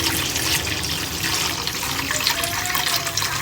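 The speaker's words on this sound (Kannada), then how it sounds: "ಇವಾಗ ಇದಕ್ಕೆ ನೀರು ಹಾಕ್ತಿದ್ದೀನಿ." Water pours steadily into a cooking pot at home, a continuous rushing, splashing stream close by with no talk, like a filling sink.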